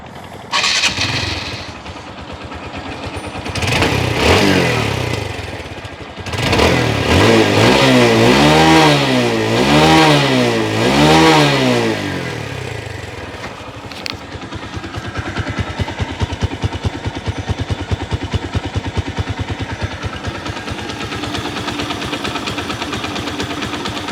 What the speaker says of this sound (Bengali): ইঞ্জিনের সাউন্ড আপনারা এখন শুনতেই পারলেন।